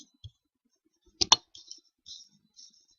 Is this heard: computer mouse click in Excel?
yes